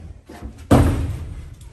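A chicken coop door on a hoop coop, released from its raised, hooked position, drops shut with a single loud, close slam and thud that rings briefly and fades, after a quiet stretch of faint shuffling.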